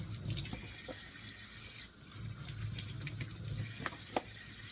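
Fresh mushrooms rinsed under a running kitchen tap, a continuous close rush of water with splashes and drips, no talk.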